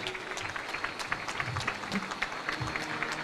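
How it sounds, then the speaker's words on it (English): An audience at a formal government launch of a prosecutions strategic plan applauds, many hands clapping in a busy, continuous wash of sharp claps heard at moderate distance. "Round of applause, ladies and gentlemen"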